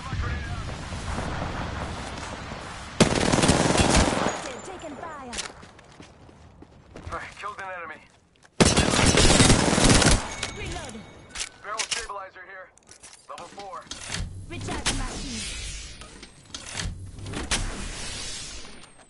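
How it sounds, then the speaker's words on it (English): Loud, booming Kraber sniper rifle shots in the video game Apex Legends, with two heavy blasts standing out among other gunfire and game noise while a player talks over it. "Five shots with the Kraber."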